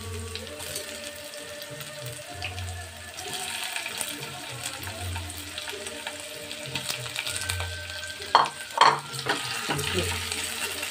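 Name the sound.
chopped onions lightly frying in pan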